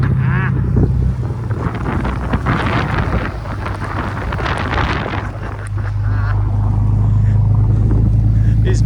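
Near-blizzard wind in western Iowa roars and buffets loudly against the microphone, gusting and rumbling through the whole stretch with snow blowing.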